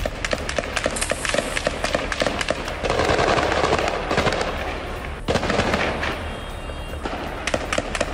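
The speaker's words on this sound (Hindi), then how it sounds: "अल नुसीरत कैंप के नजदीक फायरिंग" Gunfire near the Nuseirat refugee camp in central Gaza comes as dense, rapid cracks and bursts that carry on throughout, loud and continuous, with no talking.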